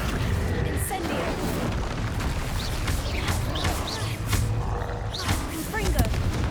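An Incendio fire spell is cast in Hogwarts Legacy on PS5, a loud roaring whoosh of flame that swells continuously over a dense bed of game effects and rumble.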